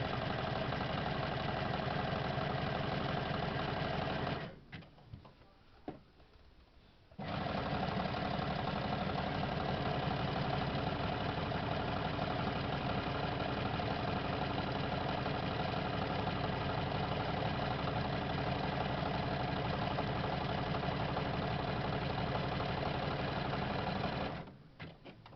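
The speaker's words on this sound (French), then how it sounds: "Et on fait donc du point zigzag sur les 2 arrondis des 2 morceaux qui vont faire l'arrière." A sewing machine runs zigzag stitches on the rounded edges of fabric mask pieces, a fast, steady mechanical whir close by that stops for a couple of seconds, restarts and runs on, then halts near the end.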